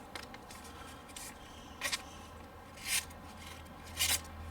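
Small knife blade slicing through a sheet of paper in a quiet room, three or four brief soft rasping cuts spaced about a second apart, near and faint.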